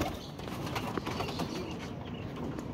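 Female pigeons coo softly and continuously at close range, a low steady murmur of calls without other voices.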